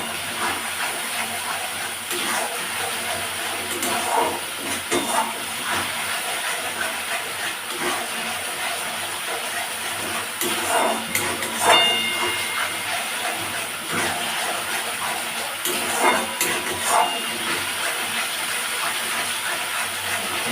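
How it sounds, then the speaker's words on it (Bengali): Spice masala with chilli and turmeric frying in a pan for a Bengali yogurt catla fish curry, a constant hiss with occasional louder crackles and stirring bursts. "মশলাটা খুব ভালো করে কষা হয়ে গেছে"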